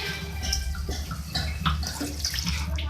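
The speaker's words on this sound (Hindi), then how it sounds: "अब इसके अंदर मैं हाफ कप पानी ऐड करूँगी और हम इस मसाले को भून लेंगे।" Half a cup of water goes into a pan of spiced masala with crushed red chilli for a beef and potato fry, giving a steady, close watery rush and sizzle for a few seconds.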